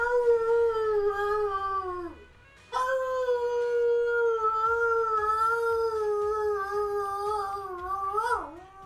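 A person imitates a howling dog with a sustained, wavering vocal howl, loud and close, breaking off briefly before a second long howl that bends downward at the end.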